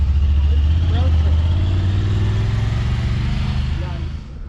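A 2016 Honda Rubicon 500 ATV engine runs with a steady low rumble, close and loud, easing off slightly toward the end, while a voice talks over it.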